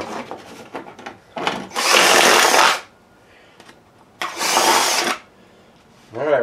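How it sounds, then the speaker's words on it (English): A power drill bores holes in a plastic hockey-style mask in two loud bursts of whirring and grinding, each about a second long, with handling noises and short speech in between. "We got all the top holes drilled."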